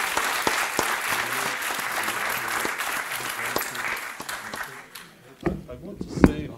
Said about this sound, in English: Please join me in applauding Yair for his amazing work.